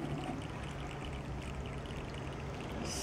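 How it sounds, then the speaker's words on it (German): Leftover liquid poured from a container into a homemade oil lamp, a steady, quiet, continuous trickling stream lasting a few seconds with no talk over it. "den restlichen gieße ich hier nochmal in meine Öllampe rein"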